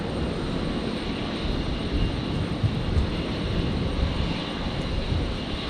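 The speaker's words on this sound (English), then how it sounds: "There's the Qantas Dreamliner tail again." Steady broadband roar of a Qantas Boeing Dreamliner airliner at Brisbane Airport, a continuous engine rumble holding even loudness throughout with no talk over it.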